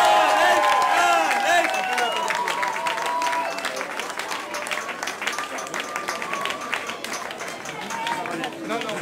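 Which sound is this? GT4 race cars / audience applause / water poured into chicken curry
audience applause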